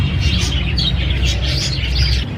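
Birds in a bird shop in Taxila where pigeons are kept, chirping and tweeting in quick repeated bursts over a low steady background rumble, fairly close and with no talk.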